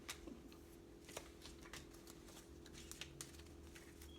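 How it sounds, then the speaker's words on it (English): Quiet, soft patter of tarot cards being shuffled, with light repeated flicks and riffles over a low background hum. "I wanted to shuffle."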